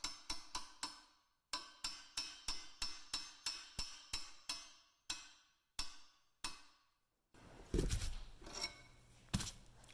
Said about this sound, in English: Might have to pound that in a little bit with the center punch again.